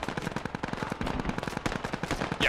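Video game gunfire in a military campaign, rapid machine-gun bursts and shots crackling in a fast, uneven rhythm, close and loud, alone with no talk.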